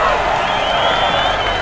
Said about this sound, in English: let us cheer him to show our appreciation